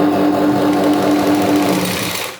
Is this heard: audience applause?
no